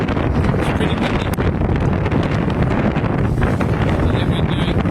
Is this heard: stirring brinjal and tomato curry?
no